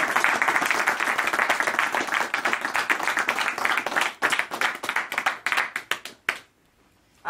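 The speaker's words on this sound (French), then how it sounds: "Je vous prie d'applaudir très très fort." Audience applause at a formal installation ceremony in Marseille, a dense burst of clapping that thins into scattered claps before stopping abruptly near the end.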